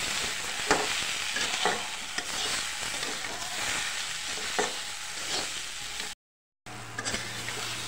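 Wild taro and tomatoes fry in a pan with a steady, close sizzle, broken by repeated scrapes and clinks of stirring and a brief drop-out near the end.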